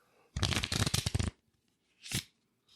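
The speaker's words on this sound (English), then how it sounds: "Give it a little shuffle real quick," A deck of talking-point cards is riffled in one quick, crisp burst lasting about a second, followed by a brief softer flutter as the cards settle, close by and quiet.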